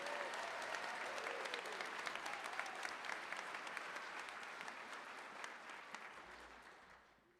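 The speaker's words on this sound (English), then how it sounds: "let's give our graduates one more round of applause" A crowd in a dome arena applauds graduates at a nursing pinning ceremony, a sustained wash of clapping that holds steady before tapering off at the end, quite faint overall.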